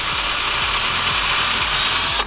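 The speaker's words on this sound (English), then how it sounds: "Your drill's gonna make a mess on the wall." A power drill bores into a wall while blinds are being mounted in a rental, giving a steady whining drone punctuated by regular ratcheting clicks, close and fairly loud, cutting off abruptly at the end.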